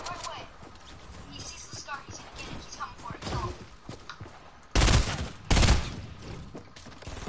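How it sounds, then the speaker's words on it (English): Fortnite gunfire: two loud, dense bursts of shots land close together in the latter half, over softer game noise, with a player talking through the clip. "Shoot, I'm getting shot at from there too."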